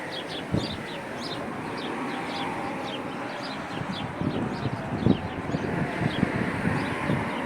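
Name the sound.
rooster crowing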